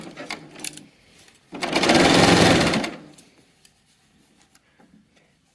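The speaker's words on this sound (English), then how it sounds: "we're just going to continue serging" A serger sews the side seams of a dress in one fast, whirring, rapid-stitch burst of about a second and a half, framed by short handling clicks and rustles before and after.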